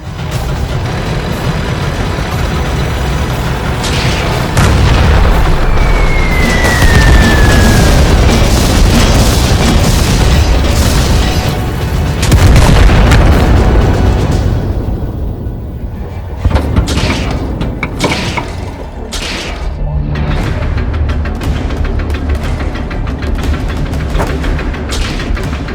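Loud, continuous booming explosions from bombs and artillery in an animated tank battle, rolling blasts and crackling bursts layered over one another for the whole stretch, with a brief whistling streak early on.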